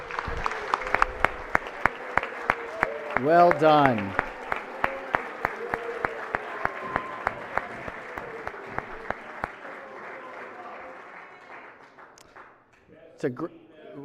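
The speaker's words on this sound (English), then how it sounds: "Please give them a round of applause." Applause in a state Senate chamber for visiting high school students, steady clapping that carries on beneath a brief spoken remark and fades out near the end, with people talking as it ends.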